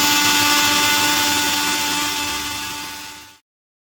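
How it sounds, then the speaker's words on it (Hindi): A mixer grinder whirs loudly and steadily grinding dry-roasted cumin seeds, then winds down and cuts off abruptly after a few seconds. "मैंने सबसे पहले ज़ीरो को थोड़ा सा ड्राई रोस्ट कर लिया है और उसके बाद मैंने इसको मिक्सी के जार में पीसा है"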